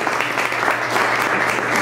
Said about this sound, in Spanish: yo creo que se merecen un aplauso más fuerte.